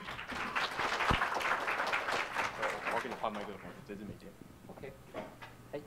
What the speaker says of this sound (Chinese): 让我们再来掌声欢迎